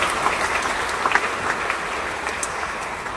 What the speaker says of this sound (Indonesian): Tepuk tangan untuk mereka semua.